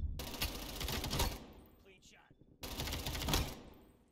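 An MP5 submachine gun in Call of Duty Cold War firing in two rapid full-auto bursts, loud and close, split by a short pause with faint background sounds and the start of a voice.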